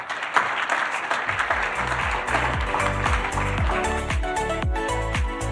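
Steady audience applause at a business forum on an ESG report fills the room, with dense clapping over background music; a voice briefly cuts in partway through.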